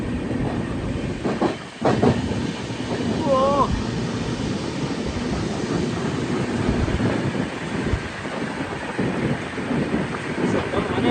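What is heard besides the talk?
goods train with two locomotives and bankers passing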